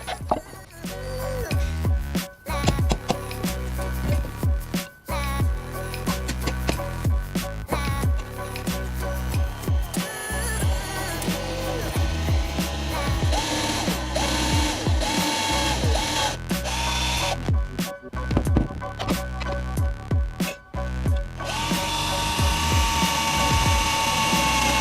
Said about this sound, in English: And now it's off to go drill.